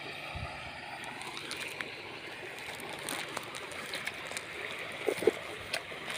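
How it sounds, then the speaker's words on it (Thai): Water flows strongly after rain at a rural fishing spot, a steady low rushing wash heard from a distance with a few faint splashes and knocks near the end. "ตอนเช้าๆเนี่ยฝนตกน้ำไหลแรงเลยครับ"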